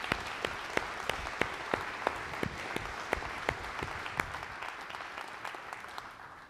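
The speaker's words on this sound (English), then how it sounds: "Let's give another round of applause to the marketing team." A company town hall audience gives a round of applause: dense, sustained clapping from a sizeable crowd, steady throughout with sharp individual claps standing out and slowly thinning toward the end.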